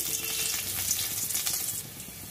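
Cloves of garlic drop into hot oil left over from frying eggplant, raising a bright, steady sizzle with fine crackling spread across a short stretch.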